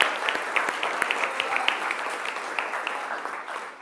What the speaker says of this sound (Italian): Un applauso a Giovanni.